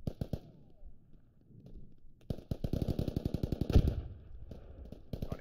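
Automatic gunfire from a machine gun in the military shooter game Squad rattles in long rapid bursts of evenly spaced loud shots, with a few single reports before and after and brief talk early on.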